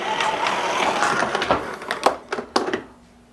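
The power cord of a Miele Guard L1 Electro vacuum cleaner rewinds at one tap. A loud, close rushing whir runs for about two seconds, then ends in a few sharp clacks as the plug snaps home, followed by quiet.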